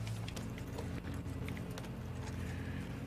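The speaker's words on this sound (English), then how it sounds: "Get a horse" A horse gallops in the video game Red Dead Online, its hooves beating a quick, steady clip-clop throughout, fairly quiet and without talk.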